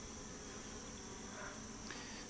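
Honeybees working at the entrance of a hive give a faint, steady, unbroken buzz that hangs low in the background throughout.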